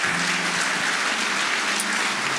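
Church congregation applauding during a French-language service, a steady dense wash of clapping throughout, fairly loud and even with no talk over it.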